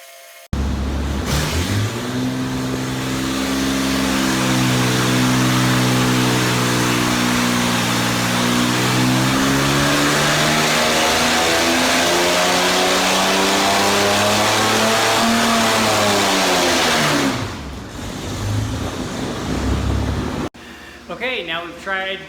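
A Chevy 292 inline engine fitted with a carburetor and long tube headers with collector extensions revs loudly and steadily, its pitch climbing and falling over a long sustained run before cutting off, with brief talk and other noise at the end.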